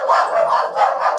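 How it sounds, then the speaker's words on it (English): Dogs barking in a quick run of four or five close, loud barks with no pauses between them and no talking. "Here come the dogs."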